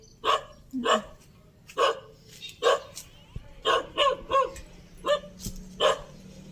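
A dog barks repeatedly in short, sharp bursts at a moderate distance, about ten barks spaced irregularly with quiet gaps between.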